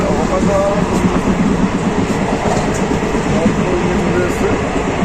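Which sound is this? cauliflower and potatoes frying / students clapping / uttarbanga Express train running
uttarbanga Express train running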